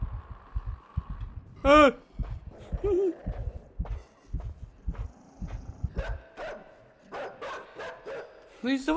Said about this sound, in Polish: Ten pies jest strasznie czujny.